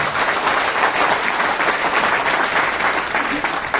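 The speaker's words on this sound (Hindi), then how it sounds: "तालियां बजाइए, तालियों की गड़गड़ाहट" An audience at a community gathering in Gwalior breaks into loud, sustained applause, dense clapping filling the whole moment with steady intensity and no pauses.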